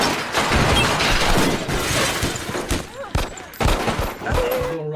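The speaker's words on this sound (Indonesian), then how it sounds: "Baku tembak pun terjadi, menimbulkan kekacauan yang sangat besar" Gunfire erupts in a film shootout during a robbery by an ex-soldier and a rogue police officer, a dense, loud burst of rapid shots, crashes and impacts rolling continuously with a few sharper cracks standing out.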